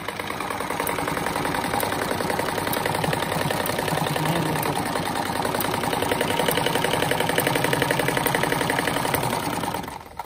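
A sewing machine stitches fabric strips for a patchwork rug with a fast, steady mechanical chatter that runs continuously before stopping abruptly near the end.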